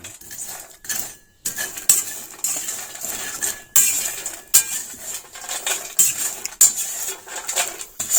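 Roasting cocoa nibs, made from beans fermented seven days and sun-dried ten more, are stirred in a pan until dark brown; steady scraping and metallic clinks of the utensil against the pan repeat in close, uneven bursts.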